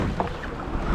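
A rowing crew paddles a boat through water, a steady rushing wash of water and hull motion with soft splashes, near and continuous, with wind in the background.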